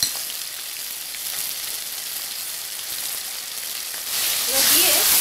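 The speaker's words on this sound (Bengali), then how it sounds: "এবার দিয়ে দিচ্ছি আদা বাটাটা, সমস্ত গুঁড়ো মশলাগুলো" Ginger paste and ground spices hitting hot oil for a soybean kofta curry, a loud steady hiss that surges louder and brighter near the end.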